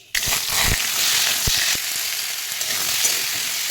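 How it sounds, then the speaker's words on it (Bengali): Five-spice seeds (panch phoron) hitting hot oil in a wok, a sudden loud sizzle with sharp popping crackles that settles into a steady hiss, close by. "চচ্চড়িটা করার জন্য আমি পাঁচফোড়ন ফোড়ন দিয়েছি।"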